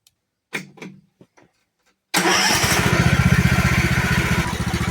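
A 547cc MTD lawnmower engine starts: a couple of short pull-cord rattles and brief sputters, a pause, then the engine catches and runs loud and close with a rapid, steady chugging idle.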